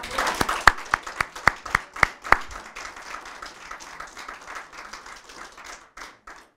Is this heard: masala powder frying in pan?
no